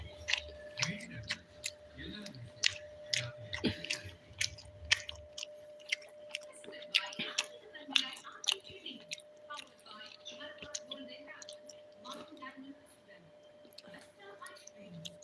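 Close, quiet chewing and soft mouth sounds while someone eats tuna fish curry, with occasional murmured speech and a faint steady hum underneath.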